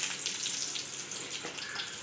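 Bay leaf, a dry red chili and whole cumin seeds sizzle in hot mustard oil in a kadai. A steady, close, crackling fry holds throughout with no talking.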